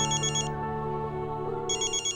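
Telephone ringtone chiming, a bright electronic ring sounding in two bursts with a short gap, fairly loud and close, with no talk.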